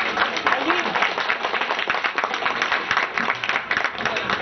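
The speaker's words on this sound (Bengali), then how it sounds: "আরো একটি মধুর করতালি দিই।" An audience at a poets' and writers' gathering and book launch breaks into sustained applause, with dense clapping that holds steady and fills the hall throughout.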